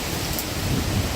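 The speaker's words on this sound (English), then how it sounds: "good rain." Heavy rain pours down during a wind storm in Stanfield, Oregon, a steady broadband hiss of wind and rain that holds at an even level through the short stretch, with no voices.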